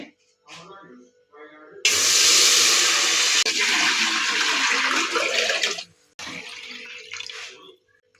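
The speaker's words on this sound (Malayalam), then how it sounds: "വെള്ളം ഒഴിക്കട്ടെ" Water gushes loudly into a cooking pot for several seconds, stops briefly, then pours again more softly. Quiet sounds and faint voices come before it.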